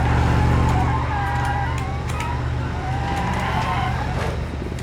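A ZIL-130 truck in BeamNG.drive skidding to a stop against a pole during a police chase, tyre squeal and engine roar up close, the loud start fading into a sustained screech.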